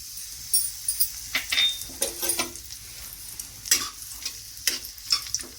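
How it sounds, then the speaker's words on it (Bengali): Cardamom and cinnamon fry in onion-flavoured oil for a chicken korma, a low steady sizzle punctuated by repeated clinks and scrapes of a spoon stirring in the pot. "এবার এই পেঁয়াজ ভাজার তেলের মধ্যে আমি এলাচ আর দারচিনি দিয়ে দিচ্ছি"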